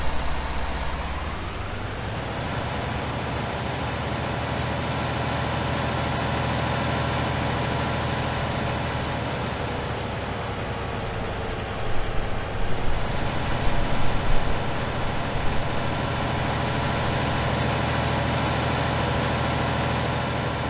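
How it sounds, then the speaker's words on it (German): A tractor in Farming Simulator 19 on a North Frisian marsh farm drives back with a steady, loud engine drone that rises briefly as it revs up near the start. The hum runs continuously, with a rougher stretch around the middle and no speech. "Fahren wir den Trecker mal zurück."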